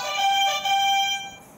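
A quiz-show buzzer belonging to a cricket batsman sounds once, a steady electronic tone with stacked harmonics lasting over a second, loud and close with no talking over it.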